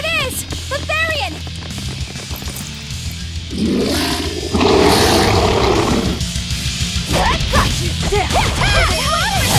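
Dogs bark in the video game Tales of Berseria, sharp yips and barks coming in quick bursts at the start and end, with a rough swell of game sound and a voice speaking in between.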